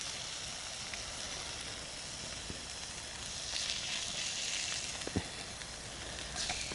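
Food sizzles in a pan at a snowy winter wild camp, a steady low crackling hiss with occasional sharper pops, fairly quiet and without talk.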